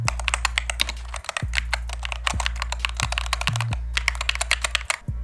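Rapid typing on an AULA Hero 84 HE keyboard, with loud, clacky keystrokes in an uneven stream over a steady low hum.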